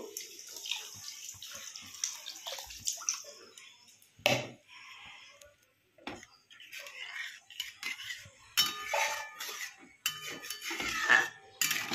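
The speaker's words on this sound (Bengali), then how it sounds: "এবার জল দেওয়ার টাইম হয়ে গেছে। এবার আমি জল দিয়ে দেবো।" Water is poured into a cooking pot of spiced cabbage pakora masala, giving intermittent splashing and trickling with clinks and knocks of utensils, fairly close and moderately quiet.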